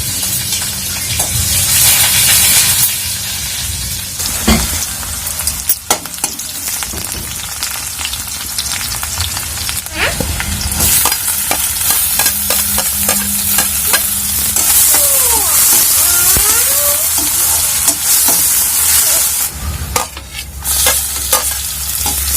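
Spices, cumin and tomatoes fry in hot oil in a wok, a loud continuous sizzle with frequent stirring scrapes and clatters of a spatula, close and busy throughout.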